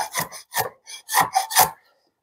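A Stanley 92 shoulder plane cuts wood in five rasping strokes of roughly even rhythm, close and loud, then stops.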